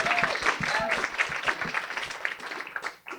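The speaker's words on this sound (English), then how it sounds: "round of applause for Berkeley and Santa Cruz" A live comedy show audience applauds, dense clapping mixed with cheering and voices over the crowd, fading slightly toward the end.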